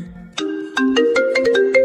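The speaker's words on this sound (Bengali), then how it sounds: "একটা ফোন আইছে, ধর ধর" Mobile phone ringtone playing a short electronic melody of distinct bright tones, close and clear, with no talk over it.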